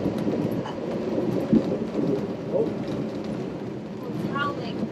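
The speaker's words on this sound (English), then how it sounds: "we're head on winds and up to 35 knots of wind" Strong headwind of about 34 knots howls over a boat in a canal, a dense rushing roar with gusty swells and low rumble. A voice gives a brief exclamation.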